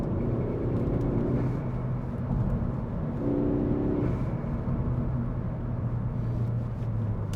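A 2014 Ford Focus ST's turbocharged engine drones steadily from inside the cabin, a continuous low rumble with swelling intake and turbo whir that rises and falls with throttle, no voices over it.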